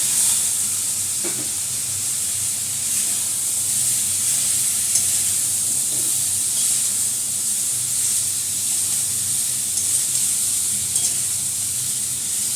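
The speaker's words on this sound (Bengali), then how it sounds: "এই তেজপাতাগুলো দিয়ে দিচ্ছি, একটু জিরা দিয়ে দিচ্ছি, মাংসটাও দিয়ে দিলাম।" Goat meat with bay leaves and cumin sizzling in hot oil, a loud continuous hiss and crackle of frying, close and steady throughout.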